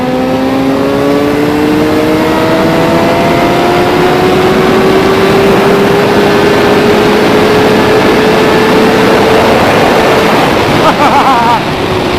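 A 2017 Suzuki GSX-R1000R with its VVT engine pulls hard through the gears on a wet road, a loud, steadily rising engine howl under heavy wind roar throughout.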